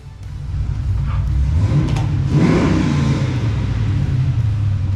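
A 3rd gen Cummins diesel engine revs up, its low rumble swelling into a loud, close roar around the middle and then holding at a steady, throaty high idle to the end.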